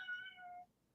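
A cat meows once, a clear drawn-out cry with a falling pitch that fades after about two-thirds of a second, leaving quiet room noise.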